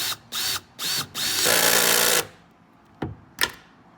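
A power drill with a socket drives a bolt into a Hyundai Kona rear wing spoiler, whirring in short bursts and then one longer sustained run, followed by two sharp clicks, close and loud.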